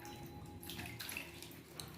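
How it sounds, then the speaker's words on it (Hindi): Taro roots washed by hand in a pot of water while soil is rinsed off, heard as soft close splashing and swishing of water that runs steadily for about two seconds with no talk. "दूसरे पानी में इनको एक बार धो के दूसरे पानी में डालते जाते हैं"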